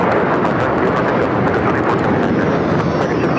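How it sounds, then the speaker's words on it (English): American Airlines Boeing 737-800 taking off from LAX, a loud, continuous broadband jet roar with steady intensity throughout. "That is American Airlines 613 taking off to Chicago on the 737-800."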